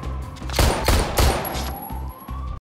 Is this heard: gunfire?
yes